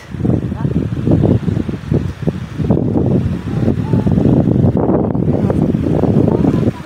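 Sea waves surge in at high tide on a beach, rolling bursts of loud washing noise mixed with heavy wind buffeting the microphone, heard close, with people talking over it.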